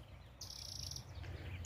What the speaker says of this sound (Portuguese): pássaro cantando, é lindo demais